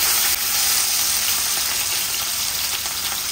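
Meat frying in a pan in a home kitchen, a loud, close, continuous sizzle with faint crackles and no talking.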